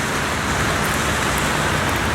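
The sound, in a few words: pouring rain in the video game Heavy Rain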